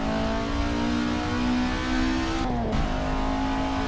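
Honda Acty kei truck engine in Assetto Corsa straining loud and steady on the climb up Pikes Peak, a continuous drone that briefly dips around a gear change before holding again.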